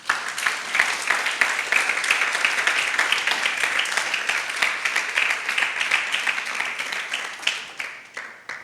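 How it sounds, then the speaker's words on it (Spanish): Congregation at an evangelical church service applauding the Lord, a dense, steady wash of many hands clapping close by for several seconds, then thinning toward the end; no talk. "Denle un aplauso al Señor por eso"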